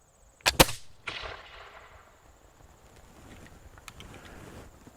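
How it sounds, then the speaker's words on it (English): A muzzle-loading historical gun fires in a weapons demonstration: a sharp, loud report with a quick crackle, followed by a decaying echo and faint outdoor background. "hopefully it'll set off the powder in the barrel. Fire in the hole!"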